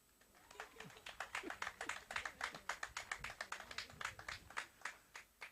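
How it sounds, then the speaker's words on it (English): Graduates at a university graduation ceremony clap for themselves, producing a burst of fairly sparse, crisp handclaps that swell and then taper off, with faint voices murmuring underneath. "You can clap for yourselves."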